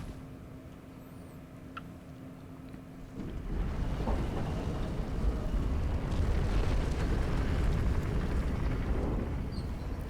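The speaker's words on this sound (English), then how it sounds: "Oh, look at the rain pouring in," Heavy rain in the Elden Ring video game starts abruptly after a quiet stretch with a faint hum, becoming a dense, loud, continuous roar that holds steady to the end.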